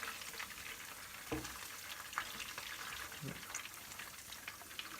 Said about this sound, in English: and then fry it again